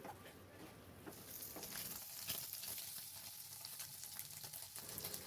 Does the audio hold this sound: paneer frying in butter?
yes